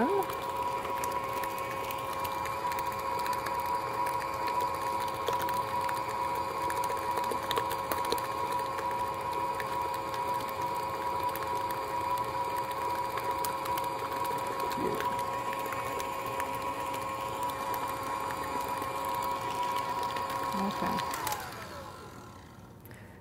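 An electric mixer beats brownie batter with eggs in a kitchen, a steady faint motor hum that runs for about twenty seconds and then winds down.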